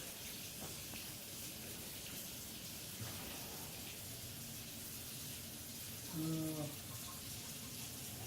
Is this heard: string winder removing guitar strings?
no